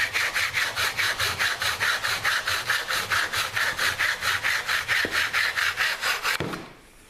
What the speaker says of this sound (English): And move the saw backwards and forwards.